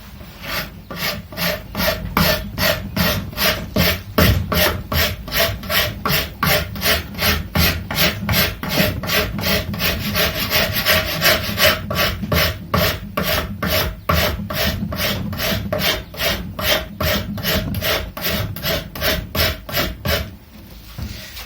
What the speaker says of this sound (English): So this, as I said earlier, this is Shinto saw rasp.